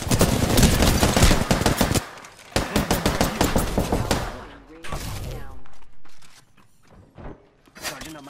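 Heavy automatic gunfire in the shooter game Apex Legends, with loud rapid bursts crackling through the first half, then shorter volleys and single shots broken by brief pauses and scattered in-game effects.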